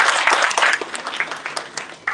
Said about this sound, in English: Let's give a round of applause again for him.